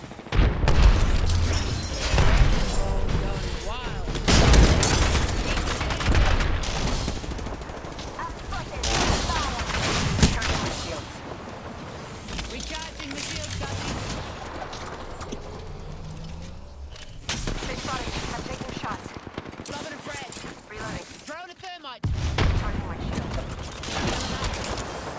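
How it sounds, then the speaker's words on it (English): Gunfire in an Apex Legends battle, with repeated bursts of automatic fire, sharp shots and booming impacts in irregular clusters, loud and close, with short lulls between exchanges and brief in-game voice callouts. "Opening fire. Getting shot at."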